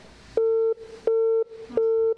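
A telephone busy signal sounds on a call to a poultry farm, three loud, even tones of about a third of a second each, separated by short silences, clear and alone.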